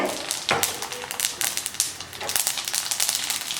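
Mustard seeds crackle and sizzle in hot oil in a pan on the stove, a steady broadband fizz with sharp popping bursts, close and fairly loud with no talking.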